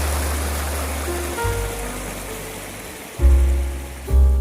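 The Anisacate river runs full after recent rains, a steady nearby rush of flowing water with louder surges toward the end, and no voices.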